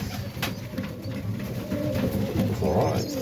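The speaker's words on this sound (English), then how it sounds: "Just checking out on the nestlings, birds, babies." Serbian highflyer pigeon nestlings giving soft, low, burbling coos close by in a loft, a steady murmur of calls under faint background noise.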